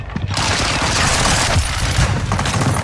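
Gunfire in Call of Duty Modern Warfare II, a loud, sustained burst of rapid shots and booms that barely lets up across the whole stretch.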